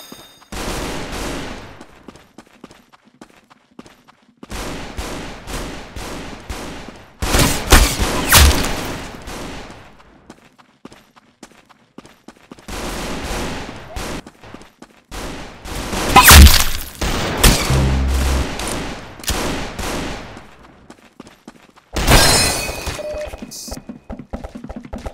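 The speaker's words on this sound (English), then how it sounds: "Very good shooting." Loud bursts of gunfire from shooting, several separate volleys of rapid cracks and heavy booms spaced with short pauses, some bursts sustained like automatic fire.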